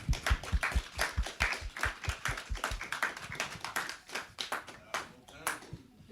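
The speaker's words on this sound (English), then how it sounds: "Y'all give him a round of applause" A small audience claps for a guest brought out at the start of a podcast episode, the clapping sharp and uneven over a steady beat of low thumps, with talking mixed in underneath.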